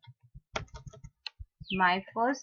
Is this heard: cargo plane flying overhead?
no